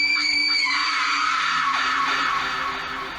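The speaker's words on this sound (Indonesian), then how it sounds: "terbangun oleh suara jeritan yang sangat keras" A woman's loud, sustained scream in a horror-story setting, shrill and piercing, holding strong for about three seconds before easing slightly at the end, with no talk over it.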